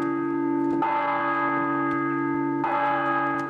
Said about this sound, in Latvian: Es varētu reiz visā tuvumā zvanu skaņas noklausīties.